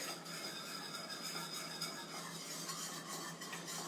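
Steady scraping and stirring of a thickening cornstarch mixture in a pot, a continuous close texture of utensil moving through the paste with faint clinks, no voices.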